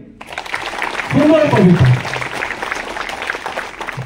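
An audience at a wall-magazine unveiling gives a round of clapping for a recited poem, a steady patter running beneath a voice speaking over it.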